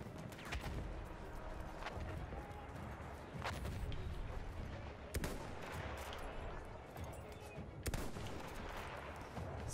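Battlefield 1 battlefield gunfire, a dense continuous fusillade of rifle and machine-gun shots with sharp nearby cracks standing out over distant firing, no talking.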